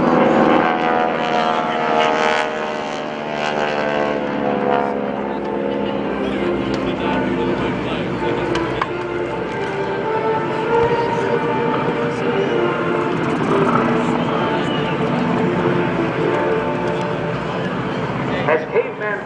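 Propeller aircraft of the GEICO Skytypers roll in for a high-angle spiral attack run at the 2011 Rhode Island Air National Guard open house airshow, a loud, sustained droning roar that swells and fades slightly, with a public-address voice talking over it.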